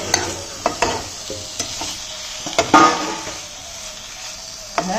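Stirring and sizzling as meat goes into a fried spice paste, with scattered spoon clacks against the pan over a steady frying hiss at close range.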